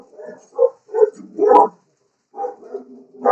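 A small dog yaps and barks in short bursts, a few sharp yips spaced across a quiet room, fairly close and moderately loud.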